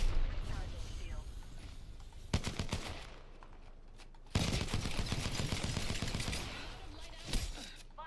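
Video game gunfire crackles in dense bursts and repeated rapid shots, loud and close, with sudden volleys breaking through a busy background while a voice speaks over the action.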